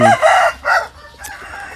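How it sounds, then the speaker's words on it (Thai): A native Thai breeding rooster crows loudly and close by in a drawn-out call lasting under two seconds, followed by quieter background clucking. "นี่เป็นพ่อพันธุ์ไก่นะครับ"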